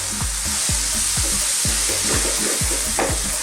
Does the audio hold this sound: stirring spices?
yes